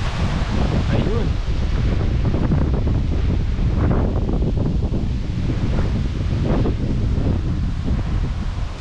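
Strong, steady wind at a campsite roars and buffets the microphone outdoors, with rustling foliage and a constant low rumble throughout.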